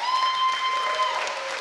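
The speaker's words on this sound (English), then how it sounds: "Let's give him a huge round of applause." Applause from the audience at a student election candidate question time, a steady moderate patter of clapping with a faint voice or tone running underneath.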